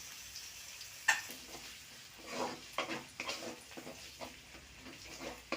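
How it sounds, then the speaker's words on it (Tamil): Onion, capsicum and beans sautéing in a pan for egg macaroni, a soft, close sizzle broken by repeated stirring scrapes and light clatter, fairly quiet and without voices. "நல்லா வதக்கி விடுங்க."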